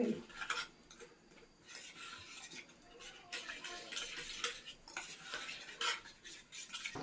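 A spoon clinks and scrapes quietly in a small bowl, mixing garam masala and spice powders with water in brisk, repeated strokes, with faint background voices.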